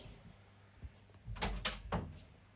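A door closes in a video game, heard as a few soft knocks and thuds, with two louder bumps close together near the middle and a final one shortly after, against a quiet background.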